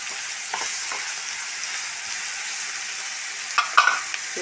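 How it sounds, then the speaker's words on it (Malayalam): Sliced onion frying with a little salt and green chillies in a pan for egg thoran, giving a steady close hissing sizzle with a few soft stirring clinks near the end. "ലേശം ഉപ്പിട്ടുണ്ട് സബോള ഒന്ന് ഫ്രൈ ആവാനായിട്ട്"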